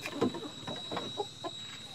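Chickens in a coop cluck in short, soft, scattered bursts, fairly close and quiet, with a faint steady hum in the background.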